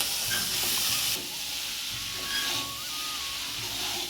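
Boiled chow mein noodles are added to a pan of frying vegetables (carrot, onion, chili, a little cauliflower), giving a steady close sizzle and hiss with a brief stirring shift.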